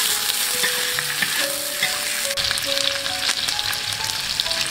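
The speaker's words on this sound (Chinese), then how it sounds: "爆香洋葱和大蒜，放入干锅锅底，炒香腊肉和香肠。" Cured pork and sausage stir-fried with onion and garlic in a dry pot, a steady loud sizzle with scraping spatula strokes throughout, no voices.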